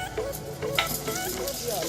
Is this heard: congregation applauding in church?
no